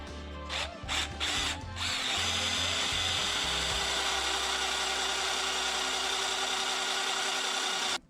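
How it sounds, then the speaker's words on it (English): A power drill bores through a metal mounting bracket for bolts on a Mega Moto 80 swingarm e-bike build, with a few short starting bursts, then one loud sustained whine running steadily until it cuts off near the end. "So, just take this and drill it out, put the bolts in it"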